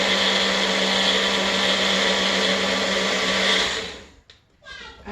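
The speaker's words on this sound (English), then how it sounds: "I'm gonna drop it in my bullet that's over here, and we're just gonna mix it for about 10-15 seconds." A bullet blender whirs loudly and steadily while mixing a keto chocolate peanut butter smoothie, then cuts off near the end, leaving a brief clatter and a quiet voice.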